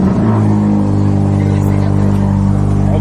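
A Mercedes car engine revs loudly and steadily from close by, its deep harmonic roar filling the whole clip with no talk over it.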